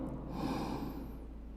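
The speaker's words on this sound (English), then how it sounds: "take 3 deep breaths with me" A single deep inhale, a soft close airy breath drawn in slowly and then tapering off, with no voice over it.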